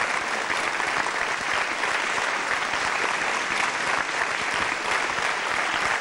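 Studio audience on a Tamil TV show applauding loudly and continuously, a thick, even roar of clapping with no breaks and no talk over it.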